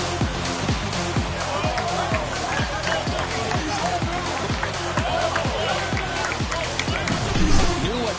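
Crowd noise fills a ballpark in MLB The Show 24 after a home run, a loud steady roar of cheering with rhythmic clapping, under a commentator's voice.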